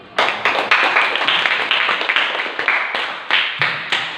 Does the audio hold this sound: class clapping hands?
yes